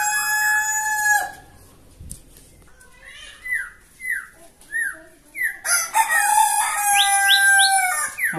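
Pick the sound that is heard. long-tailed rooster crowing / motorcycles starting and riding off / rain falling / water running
long-tailed rooster crowing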